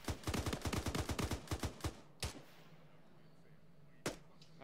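Rapid bursts of machine gun fire in the military shooter Arma 3, a fast, loud string of shots for about two seconds, then two isolated single shots after quiet gaps.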